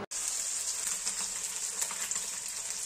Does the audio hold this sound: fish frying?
yes